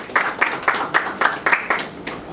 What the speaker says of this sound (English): once again, let's give him a round of applause.